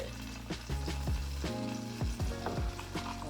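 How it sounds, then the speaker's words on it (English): Butter sizzles and crackles steadily in a hot pan in a hotel kitchen, with scattered pops and stirring scrapes, close and moderately loud. "Let that sizzle down for a second."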